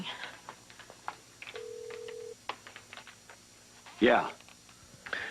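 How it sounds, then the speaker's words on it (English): A telephone gives a single steady electronic ring tone lasting under a second, with people talking softly around it and a sharp clatter shortly after. "It's ringing."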